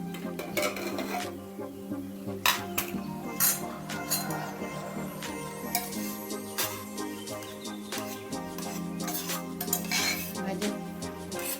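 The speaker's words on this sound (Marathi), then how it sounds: "तर कुकर काढायचं." Metal utensils clink and clatter in a home kitchen as a pressure cooker is taken out while making pav bhaji, with sharp irregular knocks and scrapes of pots and spoons over a low steady hum.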